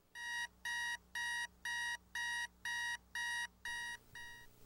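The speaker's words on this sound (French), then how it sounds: "Quand le réveil sonne" An alarm clock rings alone in a quiet room, sounding eight evenly spaced bursts of bright electronic beeping, close and loud, before cutting off.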